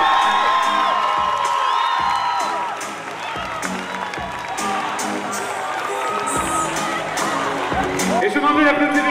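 A large crowd applauds and cheers loudly, with whoops and shouts rising over sustained clapping and music throughout.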